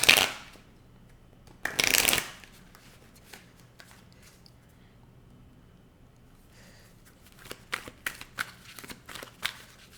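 Tarot cards being shuffled by hand: a sharp riffle burst at the start, a longer loud shuffle near two seconds, then quieter scattered card flicks and taps building toward the end, with no talking.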